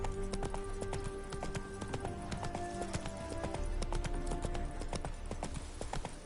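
Roach the horse trots in The Witcher 3 video game, hooves clip-clopping in a steady, fairly quick rhythm over ambient outdoor game sound, with no talking.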